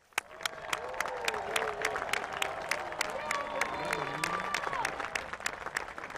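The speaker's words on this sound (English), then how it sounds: "a long, rousing round of applause for the class of 2021" A graduation audience gives a long, rousing ovation for the class of 2021, with sustained crowd clapping, a few sharp individual claps standing out, and cheering and chatter mixed in throughout.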